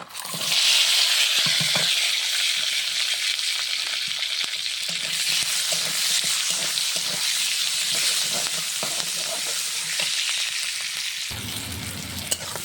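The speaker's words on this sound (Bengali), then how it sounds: "কাঁচা পেঁয়াজ কাঁচা রসুন কাঁচা ঝাল তেজপাতা দারচিনি তেল ঢেলে দিলাম।" Onion, garlic, green chili, bay leaf and cinnamon hit hot oil in a wok and fry with a loud, steady sizzle that holds throughout, ending in a brief clatter near the close.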